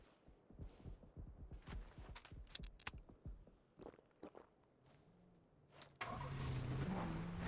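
A vehicle in PUBG during a pro scrim match, with sharp in-game clicks and thuds at first, then a steady engine drone that rises and grows louder in the final second or two.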